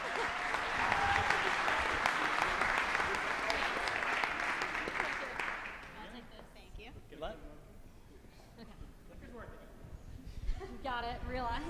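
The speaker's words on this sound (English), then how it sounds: "Let's have a giant round of applause for Pill Skills." An audience at a pitch competition gives a burst of loud, dense applause that dies away after about six seconds, followed by people talking and a few stray claps.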